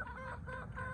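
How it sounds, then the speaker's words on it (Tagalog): Young rooster (stag) clucking in short, soft repeated calls, close but fairly quiet, with a low rumble of background noise and no talk. "Ito na yung stag natin mga boss."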